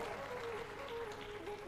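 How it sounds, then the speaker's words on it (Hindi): An audience at a Hindi religious discourse in Kanpur claps vigorously and steadily under a sustained tonal hum, the clapping dense and close for a short burst. "इसमें आपकी तालियां बड़ी जोरदार थी,"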